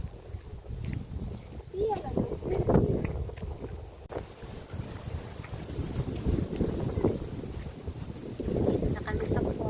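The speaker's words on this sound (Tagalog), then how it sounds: "Lakas pala ng hangin dito." Strong wind buffets the microphone outdoors in a forest, a constant low rumble with gusts, while people talk and move around nearby.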